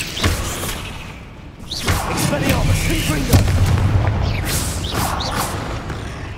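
Fiery Confringo spell blasts in Hogwarts Legacy on PlayStation 5, a series of booming impacts and crackling bursts layered over game sound and occasional voices.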